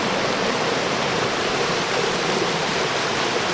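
Water pouring at a hidden waterfall in New Zealand, a dense continuous rushing roar, loud and steady with no pauses.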